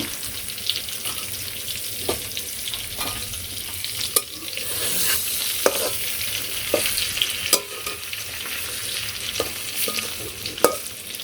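Cumin and radhuni seeds fry in oil in a pan with a steady low sizzle, punctuated by occasional sharp clicks and scrapes of a stirring utensil.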